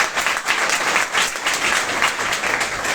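Loud, sustained applause from a gathered audience at a ceremony honoring a student who succeeded in the Navy, steady clapping filling the whole stretch without talk.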